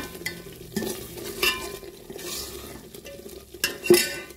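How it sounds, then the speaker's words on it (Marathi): Spice paste sizzles softly as it roasts in oil while a spoon scrapes and clacks against the pan in intermittent strokes. "प्रकारे मसाला तेलात असं चांगल्यारीत्या भाजून घ्यायचा 4-5 मिनिट"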